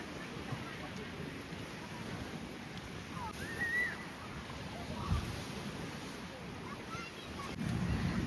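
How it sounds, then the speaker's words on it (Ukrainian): Sea waves wash onto the beach at Hrybivka in a soft, steady distant surf, mixed with light wind noise on the microphone and a faint brief bird-like chirp, fairly quiet throughout. "Ось так виглядає пляж в цьому місці на сьогоднішній день."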